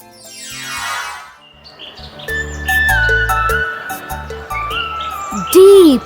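Cartoon birds in a jungle chirp and tweet in quick, bright calls over a bed of gentle music, with a louder descending call standing out near the end.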